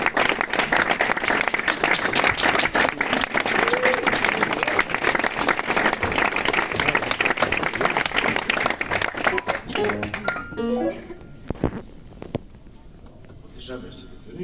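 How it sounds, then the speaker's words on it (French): Audience applause welcoming a performer at an album showcase: a dense, steady burst of clapping that fills most of the clip, then thins out near the end as a voice comes in. "Merci d'applaudir comme il se doit."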